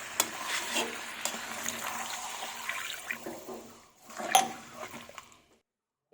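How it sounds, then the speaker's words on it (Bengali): Water poured into a pan of mutton kosha cooked in ground spice paste and oil, giving a sustained hiss and sizzle with some stirring and splashing that fades near the end. No voices are heard. "দিয়ে এবার পরিমাণ মতো জল দেব।"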